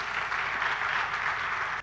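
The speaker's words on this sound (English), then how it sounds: "So a big round of applause for Apurva" A crowd claps in a dense, steady burst of applause that cuts off abruptly at the end.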